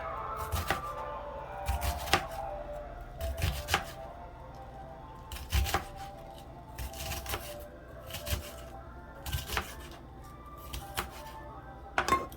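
A knife chops food on a board while ingredients are prepared for Jamaican ackee and saltfish, giving irregular bursts of sharp, close taps, sometimes in quick clusters, with short pauses between.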